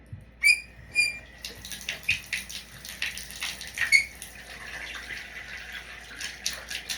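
Shower water runs steadily from a tap as it is readied for bathing a curly-haired dog, a continuous hiss with a few brief squeaky whistling tones near the start as the valve is adjusted.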